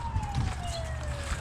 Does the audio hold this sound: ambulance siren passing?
yes